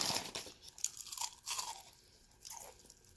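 Crunching bites into fried onion rings alongside a burger, several loud close crispy crunches with chewing between them, no talking.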